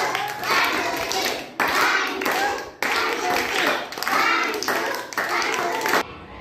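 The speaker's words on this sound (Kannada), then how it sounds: "ಅವಳಿಗೆ ಎಲ್ಲರೂ ಚಪ್ಪಾಳೆ ಹಾಕ್ರಿ." A group of children in a classroom clapping together in several sustained bursts of brisk applause, close and loud, separated by brief pauses.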